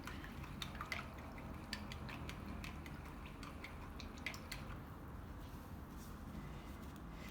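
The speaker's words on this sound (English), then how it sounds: "I'm gonna wash my brush out." A paintbrush is washed out in water, giving faint, scattered drips and small splashes in a quiet room, with a brief cluster of light taps and sloshes.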